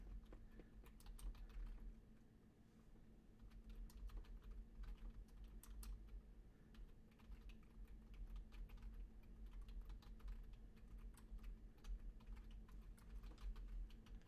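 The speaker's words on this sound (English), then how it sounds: "I got tired of typing out Gator Zone, so I started typing out Gator Z" Fast, steady clicking of keys typed on a computer keyboard while playing NCAA 14 dynasty mode, continuous for the whole stretch with a low hum underneath, faint and fairly close.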